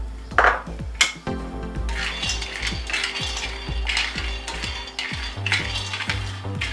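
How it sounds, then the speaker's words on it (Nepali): Three tablespoons of peanuts dry-roasting in a pan, with repeated close metallic scrapes and clinks of a spatula against the pan and rattling nuts, steady and fairly loud throughout, no talking. "यो रेसिपीको लागि सबैभन्दा पहिला मैले यहाँनिर 3 टेबलस्पुन बदामलाई भुट्न गइरहेको छु"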